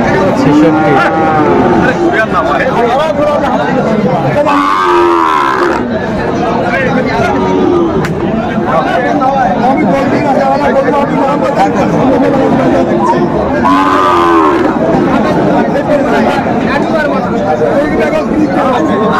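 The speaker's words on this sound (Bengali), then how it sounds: "শাহিওয়ালের ষাঁড় বাচ্চা দেখছিলাম" Sahiwal bull calves at a busy cattle market in Kushtia, with occasional moos rising over constant crowd chatter and bargaining voices close by.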